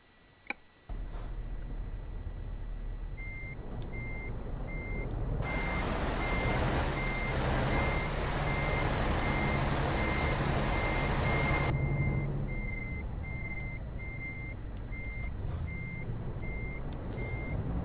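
Truck reversing beeps in Euro Truck Simulator 2, a steady evenly spaced series of electronic tones over a constant engine rumble, loud and clear through the middle and continuing fainter afterward, with no talking.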